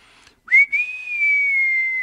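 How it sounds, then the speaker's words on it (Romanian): A man whistles a single clear sustained tone, rising briefly at the start then holding steady and loud, alone without other sound. "A fluierat Sandu"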